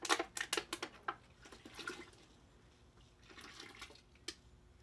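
Water splashes and gushes while engine parts are rinsed after soaking in Harbor Freight heavy duty degreaser, with a burst of quick splashes at first, then softer trickling and a final slosh.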